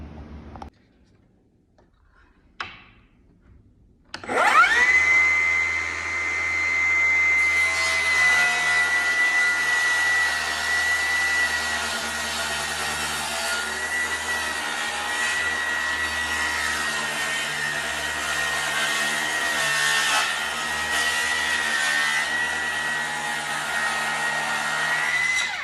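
After some brief handling knocks, a power saw spins up and cuts steadily through a poor-quality wooden board clamped at an angle, a loud, sustained whine holding close and even for about twenty seconds.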